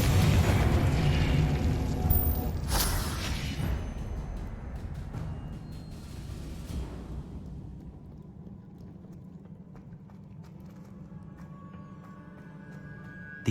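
A fiery explosive-curse blast goes off in the Hogwarts Legacy video game, a loud booming burst with a sharp crack near the third second, then a long rumbling fade into low ambient hum.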